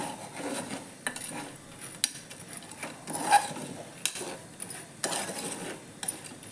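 Chickpeas and salt stirred inside a pressure cooker for roasting, giving a steady scrape with a handful of sharp metallic clinks and knocks, close and moderately quiet.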